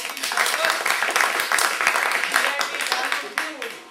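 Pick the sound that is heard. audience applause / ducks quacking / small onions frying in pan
audience applause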